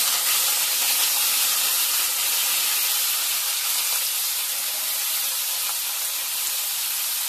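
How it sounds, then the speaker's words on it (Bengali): Potato, aubergine and peas hit hot tempering oil in a pan, giving a loud, steady, hissing sizzle that stays even and close throughout with no talking. "একটু ফোড়নটা ভাজা হয়ে আসলে এবারে আমি এই সবজিগুলো অ্যাড করব"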